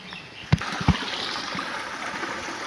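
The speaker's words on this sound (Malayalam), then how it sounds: "ഇതൊക്കെ ഇവിടുന്ന് വെള്ളച്ചാട്ടം പോലെ ഉണ്ട്" Water flowing through a field like a small waterfall makes a faint, steady rushing close by, with two sharp knocks early on.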